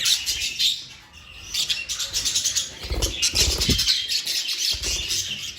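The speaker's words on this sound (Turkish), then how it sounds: "Şöyle gösterelim kuşlarımızı." Pet birds in an aviary chirp and tweet continuously in a dense, busy chorus, with a few louder calls and faint rustling or wing flutter mixed in.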